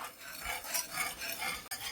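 Milk being stirred into a cheese sauce in a pot, a soft continuous scraping and swishing of a utensil in rhythmic strokes, quiet and close.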